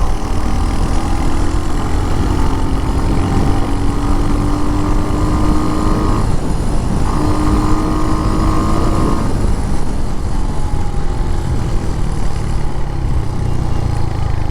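A Royal Enfield Hunter motorcycle rides at high speed near 100 on a road, with a loud continuous engine drone and wind roar up close. The engine pitch shifts briefly midway.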